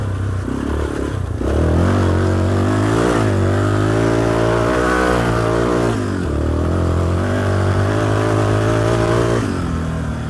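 A Yamaha 350 Raptor quad engine labours and revs in soft sand, loud and close, its pitch rising and falling through a steady, continuous drone with clattery mechanical texture and no talk.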